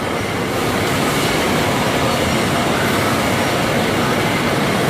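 Loud, continuous broadband machinery noise from a large factory machine indoors, a dense rumbling roar that stays steady and close throughout.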